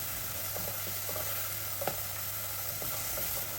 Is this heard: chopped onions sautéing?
yes